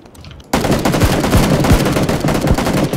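Rapid automatic gunfire in the battle royale game PUBG: Battlegrounds erupts suddenly after a quiet moment, a loud, dense burst of shots with distinct heavy impacts punctuating the stream.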